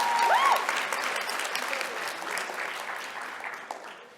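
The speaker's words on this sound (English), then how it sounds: "so give him a round of applause as well." Audience at a NAMI conference afternoon session claps steadily for a graduating regional leader, a full room of applause that starts strong with a brief whistle and slowly tapers off.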